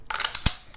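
A magazine seated into the blocked magazine well of a Colt 9mm carbine, a short metallic scrape followed by one crisp click, close and alone.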